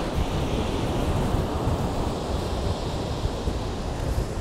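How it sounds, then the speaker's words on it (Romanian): Wind-driven ocean waves crash against a rocky stretch of the Danish North Sea coast in a steady, loud roar with continuous surf wash and wind buffeting, and no voices. "Ce valuri nebune sunt acolo."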